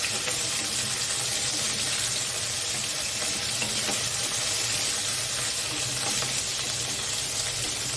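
Potato, taro, pumpkin and ridge gourd sizzle with a fish head in a pan for pui shaak chorchori, a steady close hiss of frying that runs without a break and with no voices.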